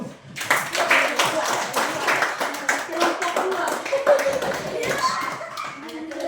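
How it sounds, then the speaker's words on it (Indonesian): A classroom group claps and applauds for several seconds, mixed with children's voices, with a teacher speaking over it. "kita tepuk tangan buat kelompok 1"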